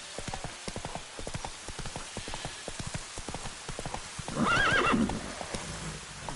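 Roach, the horse in the video game The Witcher 3, gallops with a steady, quick clip-clop of hooves throughout, and a loud whinny breaks in near the end.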